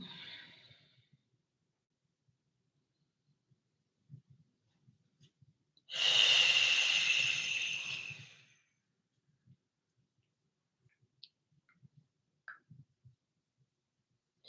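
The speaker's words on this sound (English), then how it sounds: "Long, deep breathing." A single long, deep breath during a yin yoga session, heard up close as a slow, airy exhale of a few seconds, surrounded by near silence and scattered small clicks.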